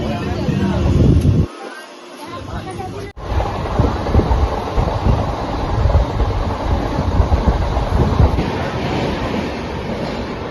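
A train rumbles along the track as it arrives at Bidyakun station, a loud, close, continuous roar with heavy wind buffeting and a brief dropout early on.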